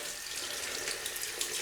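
Tap water runs steadily into a sink while rinsing a shaving brush, a close, continuous hiss and splash with small irregular spatters and no speech.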